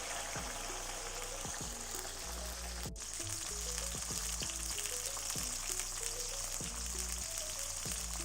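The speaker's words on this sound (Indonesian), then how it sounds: "Setelah minyak dirasa panas, kita goreng yang pertama kali pare." Bitter gourd (pare) frying in hot oil, a steady close sizzle with crackling throughout, while a melody plays over the top.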